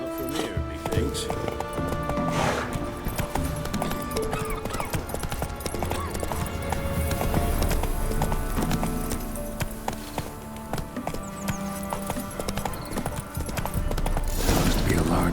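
Roach the horse galloping in The Witcher 3 video game, with rapid hoofbeats and clip-clop running steadily throughout under game music and sound effects, alongside a voice speaking.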